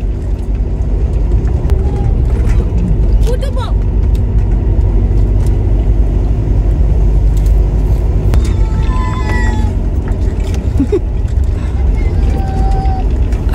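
A Toyota Hilux drives on a road through villages and game reserves in Africa. It makes a loud, constant engine and tyre rumble throughout, with faint voices and scattered small sounds on top.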